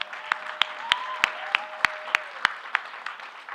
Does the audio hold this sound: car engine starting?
no